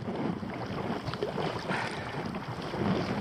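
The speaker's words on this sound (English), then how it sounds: "Pedalling and paddling." Kayak paddling into a headwind off the Walney North End dunes: steady wind buffeting and water wash from paddle strokes, continuous and close throughout.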